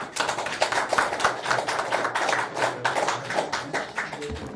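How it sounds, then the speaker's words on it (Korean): Applause closing a press conference for a Democratic Party regional chair's election announcement in Cheongju, with a room of people clapping steadily and densely for several seconds, close and fairly loud. "박수 부탁드립니다"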